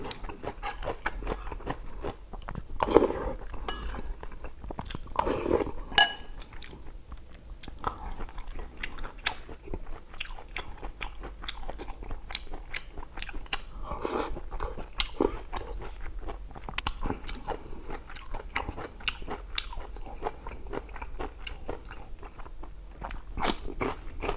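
Close, loud chewing and biting on pork belly stewed with mushrooms, with crunchy bites and wet mastication repeating in an irregular rhythm, no talking.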